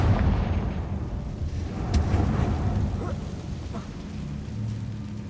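The Confringo fire spell blasts in the Hogwarts Legacy video game, a loud low boom at the start with a second burst around the middle, trailing off into rumbling noise.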